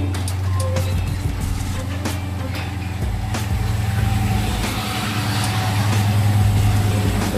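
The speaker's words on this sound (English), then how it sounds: "Your garage door should now be opening." A residential garage door with a NEXX smart opener runs steadily, a low motor hum and mechanical rumble holding at an even, fairly loud level with faint rattles, heard from inside a car.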